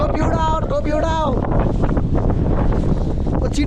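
Strong gusting wind buffets the microphone on a high mountain road in Mustang, Nepal, a loud continuous roar; people talk over it near the start.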